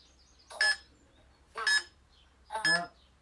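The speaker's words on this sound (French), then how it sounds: "dès qu'on entend le bip de fin, on saute" Three evenly spaced electronic beeps about a second apart sound during a live hockey training drill, each one loud and close, ringing out over low background hum.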